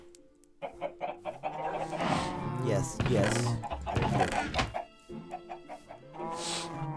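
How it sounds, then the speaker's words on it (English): Chickens on a chicken farm in the game Minecraft, several short clucks and squawks in bursts, close and clear, with a person talking briefly among them. "Chicken farm seems to be doing well."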